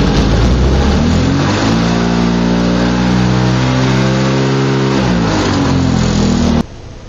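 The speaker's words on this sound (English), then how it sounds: "we're going to set this to max and I'll go rev it up" A Formula 500 race car engine revs hard at maximum throttle, a loud sustained roar with rising and falling harmonic sweeps that builds, holds and then cuts off abruptly near the end.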